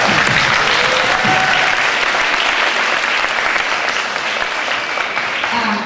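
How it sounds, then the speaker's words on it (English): A school auditorium audience at a fifth-grade winter band concert claps for the school administrators, a loud, dense and even wash of applause that holds steady throughout. "Give them an applause."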